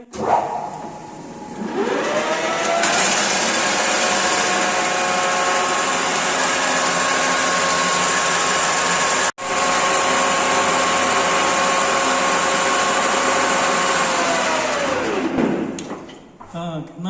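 A metalworking boring machine spins up, runs at a steady loud whine with a broad mechanical hum, and then winds down at the end. A brief dropout occurs midway, and there is no talk over the running machine.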